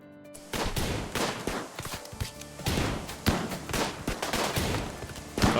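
Rapid bursts of gunfire from a raid in the video game RimWorld, dense overlapping shots and thumps firing in clusters, loud and close with short gaps between volleys.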